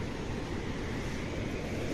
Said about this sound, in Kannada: ಹೊಳೆ ಮೈದುಂಬಿ ಹರಿಯುತ್ತಿದೆ